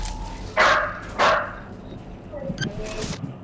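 A dog in a Free Fire-style battle game barks twice, loud and close, then fades into softer background sounds while a voice talks faintly.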